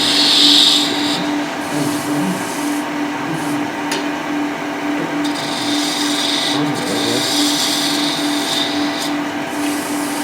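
Wood turning on a lathe with a spindle gouge, a steady motor drone under soft intermittent scraping bursts as the tool cuts a line into the spinning piece, moderately loud and without speech.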